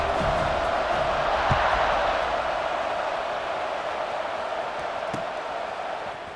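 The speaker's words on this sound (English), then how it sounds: "this crowd is buzzing after that last score" Stadium crowd buzzing in EA Sports College Football 26 before a kickoff, a steady broad roar of many voices that holds loud and fairly even throughout, easing slightly toward the end.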